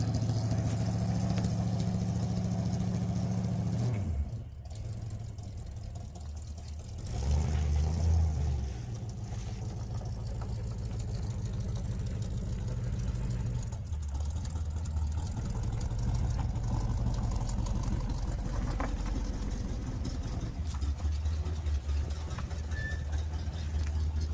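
Engine hum inside a car on a ride, a steady low rumble that runs nearly the whole time with a few brief dips and swells, close and continuous with no talk over it.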